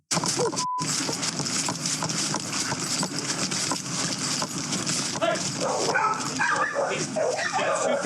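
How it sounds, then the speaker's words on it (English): Dogs bark repeatedly from a backyard in a busy, noisy outdoor scene, with police officers talking and commotion throughout. "together they rush toward the sounds of barking coming from the backyard"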